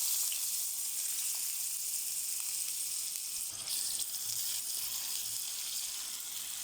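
Chopped onion sizzles in hot olive oil, a bright continuous crackling hiss heard close and steady, with a few faint knocks of a utensil partway through.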